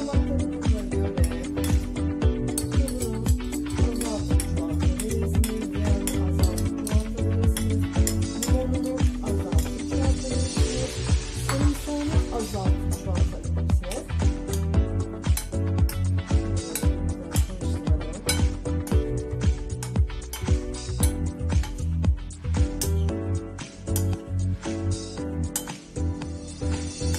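Sauce is mixed into a broccoli and corn salad in a bowl, a long run of close, rhythmic clinks and scrapes of a utensil against the dish, steady and busy throughout.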